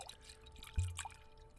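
Cheap Woodbridge red blend wine poured into a glass, a brief soft splash and trickle near the mic, fairly quiet against a low room hum, with no talking.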